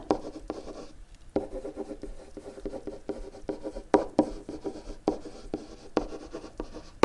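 A red pen scratching and tapping on paper while working a geometry problem, with close, quiet strokes and irregular sharp ticks over several seconds, no talking.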